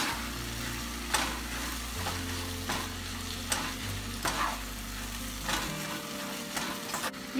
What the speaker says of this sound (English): we'll keep stirring in between so that it does not stick to the bottom